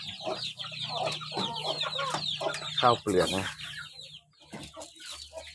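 Chickens, both young birds and breeding hens and roosters, cluck and chatter busily at close range while being fed paddy rice in the evening, with someone talking over the birds throughout.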